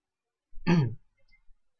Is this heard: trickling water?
no